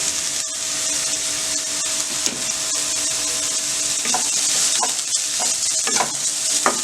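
Carrot, beans, cabbage and green chilli stir-frying in a hot pan for veg fried rice, a steady close sizzle with scraping stirs and clinks of a spatula running throughout.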